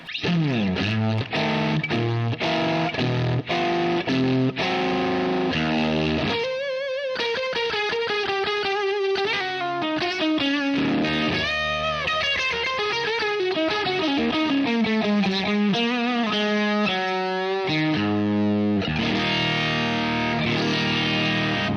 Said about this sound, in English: it really reminds me of a good old Germanium fuzz